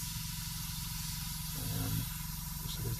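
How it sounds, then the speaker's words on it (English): A Harder and Steenbeck Infinity CR+ airbrush sprays with a steady, close hiss for the whole stretch, a low constant tone beneath it, briefly intensifying partway through. "just going to spray it till it gets dry."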